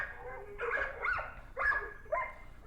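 Several dogs, American Bully XLs among them, bark and yip excitedly in short bursts, a few sharp barks spaced across the moment at moderate distance, with no talk over them.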